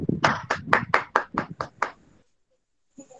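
A few people clap in slow unison for the host of an online Hindi writing workshop session, about eight evenly spaced, fairly close claps, then a short pause and a faint sound.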